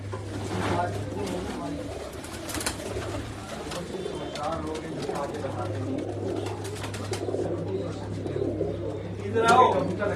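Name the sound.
pigeons cooing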